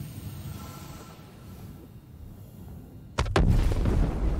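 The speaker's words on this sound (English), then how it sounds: "Someone's shooting at me." In the Star Citizen space game, enemy fire hits the player's Reclaimer ship: a quiet low hum gives way to two sharp heavy impacts, followed by a loud continuous rumble.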